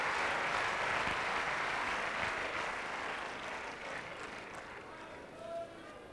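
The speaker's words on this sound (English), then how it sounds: "The crowd urging him on." Spectators clapping and cheering at a professional tennis final in Rome, a broad wash of applause that starts loud and gradually fades, heard from a distance.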